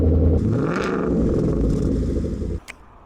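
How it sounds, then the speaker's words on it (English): A 2013 Ford Mustang GT V8 with a Roush axle-back exhaust rumbles loud and near with a deep burbling note. It swells slightly in the middle and then cuts off sharply, followed by a brief click. "This is my 2013 Ford Mustang GT fitted with Roush Axle-Back exhaust tips to make the car"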